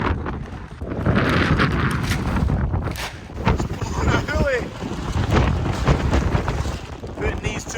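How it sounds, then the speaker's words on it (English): Strong wind gusts roar across an open cattle field, a steady broadband rush buffeting close to the microphone throughout, with faint voices or animal sounds partly buried beneath. "The wind's coming in this way."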